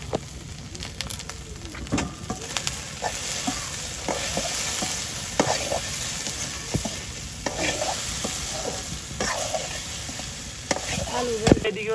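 Okra fries in a pan with turmeric, giving a steady crackling sizzle under repeated scraping and clattering stirs; the sound is close and busy throughout.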